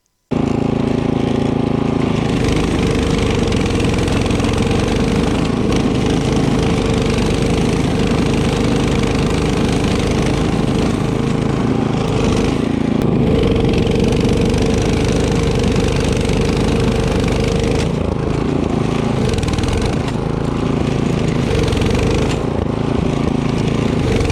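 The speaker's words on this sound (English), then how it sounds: "Take a listen to how the engine gets stressed in this thick stuff." A Toro 724 QXE gas snowblower engine labours as it chews through thick, plow-packed driveway snow, a loud continuous droning rumble that dips and surges under load throughout.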